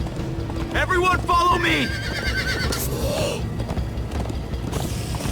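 Horses gallop in Minecraft: Story Mode, a rushing game soundtrack with neighs and whinnies over thudding hooves, while voices shout close by throughout.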